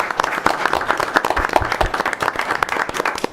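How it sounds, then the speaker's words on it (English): A crowd applauds at a school district board of education meeting, honoring classified employees; dense, steady clapping fills the room for several seconds. "I'd like to give them a round of applause."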